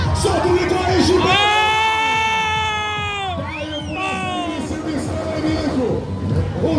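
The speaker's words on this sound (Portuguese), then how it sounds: "Faz barulho, solta o grito aí, Gilberto." A crowd at a motorcycle stunt show in Ji-Paraná, Brazil, cheers, whoops and shouts loudly and without a break, with high-pitched cries rising above the noise.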